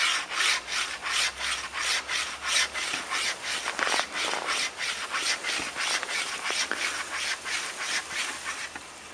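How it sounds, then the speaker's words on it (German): A homemade bow saw with a wire blade works through a 6 cm birch branch outdoors, giving fast, rhythmic rasping strokes that repeat steadily and sound close and loud. "ich probiere jetzt 6 cm Birke durchzusägen"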